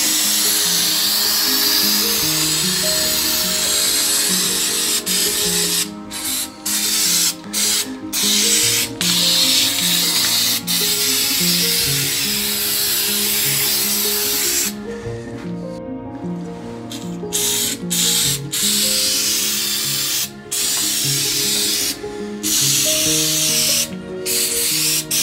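Waxoyl rustproofing sprayed onto a motorhome chassis around the axle beam and caliper, a loud close hissing spray that runs almost nonstop with brief breaks and an underlying compressor drone.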